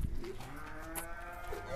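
A six-legged cow on a farm gives one drawn-out moo, moderately close, with faint background noise and no clear talking.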